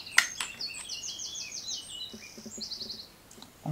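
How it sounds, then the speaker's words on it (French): Small birds sing outdoors: a few quick chirps, then repeated bright trills and short twittering phrases, moderately faint against a quiet background. "On a la chanson des oiseaux aujourd'hui."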